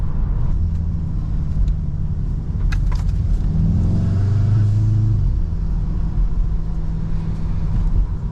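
A VW Golf R Mk7.5 with 306 hp crawls slowly over a very uneven, bumpy road, its low engine drone and road rumble steady and close throughout, with a brief rising engine note midway and no talking.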